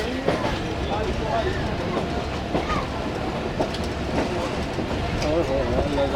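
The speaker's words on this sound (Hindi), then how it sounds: "आहिस्ता आहिस्ता ट्रेन हमारी लूप लाइन से मेन लाइन की तरफ जा रही है।" The Musa Pak Express railcar rolls slowly from a loop line onto the main line with a steady interior rumble and faint wheel clatter, while a voice talks over it.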